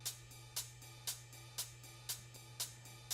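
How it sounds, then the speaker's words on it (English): A ride cymbal in an electronic remix taps out a steady pattern, about seven bright shimmering hits half a second apart with faint quicker ticks between, quiet and without voices over a low hum. "bring in the ride cymbal."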